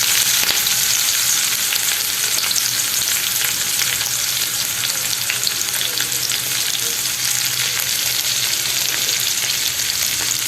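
Green chillies and onion fry in a pan with a dense, steady, fairly loud sizzle and light stirring scrapes throughout, no voices over it.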